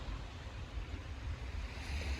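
Sea waves wash on the beach at a seaside village in Rayong, a soft continuous surf wash with light wind, faint and steady with no voices.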